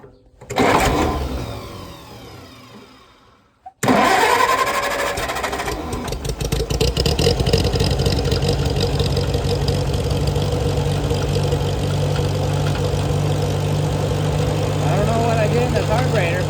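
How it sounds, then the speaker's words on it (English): A Farmall A tractor engine cranks briefly, then catches and settles into a steady, loud idle with a constant low rumble. "And I'll fire it up now and make sure it's in neutral."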